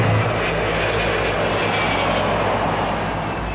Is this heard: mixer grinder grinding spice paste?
no